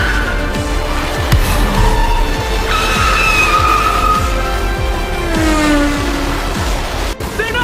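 A car drives fast with its tires skidding and squealing, over loud, steady engine roar. Repeated sharp tire screeches rise and fall throughout.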